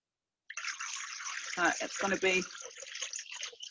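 Water, 1.7 litres, poured into a Thermomix jug in a home kitchen, a steady gushing splash that starts abruptly and runs on while a person talks over it.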